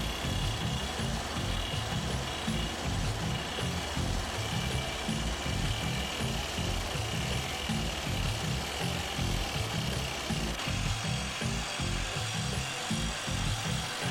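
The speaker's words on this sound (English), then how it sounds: "Then, the slow, closely watched drilling process begins." A rock drill bores blast holes into stone at a construction site, hammering in a fast, steady, loud pulse over a continuous dense roar of machinery throughout.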